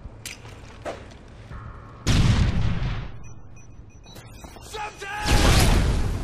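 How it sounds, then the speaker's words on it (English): A grenade goes off on the Underground map of Call of Duty, a loud booming blast that swells and fades, followed a few seconds later by a second strong burst, with gunfire and game noise around it. "Grenade!"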